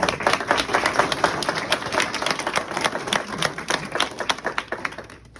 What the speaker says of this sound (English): a round of applause for Claddagh